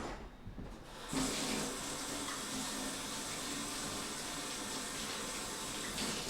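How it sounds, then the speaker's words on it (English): A kitchen tap runs steadily as hands are washed, a brief quieter moment giving way to a loud, continuous broadband gush of water striking the sink that lasts to the end. "I just sprayed water everywhere."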